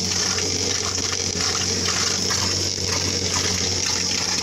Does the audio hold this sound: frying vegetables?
no